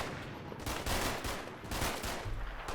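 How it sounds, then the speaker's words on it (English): German troops fire in a Combat Mission Final Blitzkrieg battle, sustained bursts of rifle and machine-gun fire crackling in uneven volleys, fairly faint and distant, with several louder bursts standing out. "the Germans are quick to react, shifting their fire onto the men before they can do much damage"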